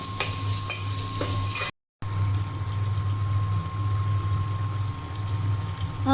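Chopped onions fry in a pan for a home-cooked meal with a steady close sizzle and occasional stirring scrapes, continuing without talk apart from a brief dropout near the start.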